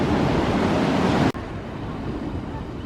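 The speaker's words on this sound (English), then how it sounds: "I'm watching the waves." Surf breaks and washes steadily at Seaburn Beach, a broad noisy rush dulled by wind on the microphone, with a brief cut partway through before the softer wash of the waves continues.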